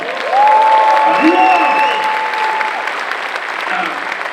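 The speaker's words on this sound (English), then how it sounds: "I want to first of all have you guys give an applause to yourselves for being here today." Conference audience applauding, a steady wash of clapping at a leadership event, loud and continuous for several seconds with a tonal whistle-like sound running over it.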